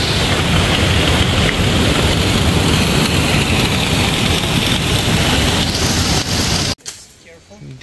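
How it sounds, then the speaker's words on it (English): Rushing water roars at the top of the Ouzoud waterfalls in Morocco, a loud broadband wash with wind buffeting, steady for several seconds before cutting abruptly to a quieter background. "But this is the top of the waterfalls."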